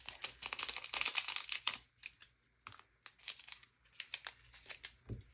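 Scissors snip and crinkle through a small plastic bag of diamond-art beads at close range, with quick cuts and rustling bursts separated by brief quiet gaps.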